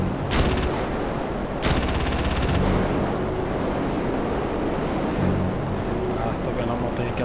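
Rapid bursts of Gripen fighter jet cannon fire in GTA 5, two loud sustained volleys near the start over a constant roaring wind and engine bed.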